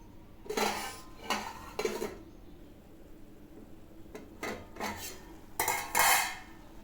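Metal lid and pan clatter over a pan of amaranth greens being cooked, with several sharp clanks in short bursts: three early knocks, then a louder cluster near the end, close by and with no voices.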